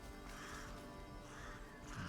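Crows caw in the video game Atomfall, giving rough, harsh calls in a couple of swelling bursts that sound close and loud over a dense, noisy game background.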